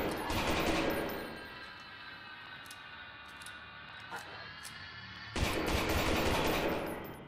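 Bursts of rapid gunfire in the horror video game Lost in Vivo, loud at the start, then a quieter stretch of ambience with faint clicks, before a second loud burst of shooting near the end.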